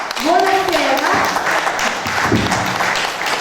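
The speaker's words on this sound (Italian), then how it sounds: "accogliamola con un grandissimo applauso" Audience at a Neapolitan posteggia and classical Neapolitan song festival applauds the singer on stage, a dense burst of clapping throughout with a voice speaking over it near the start.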